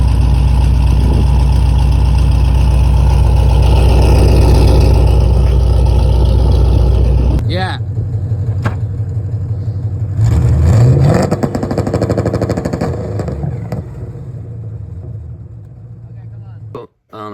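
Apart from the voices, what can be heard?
LS-swapped Nissan 240sx engine through straight-pipe exhaust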